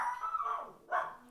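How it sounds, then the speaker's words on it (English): A dog barks twice in the background of a quiet room, a longer muffled bark followed by a shorter second one, moderately loud and with no talking over it. "Sorry about the dog barking."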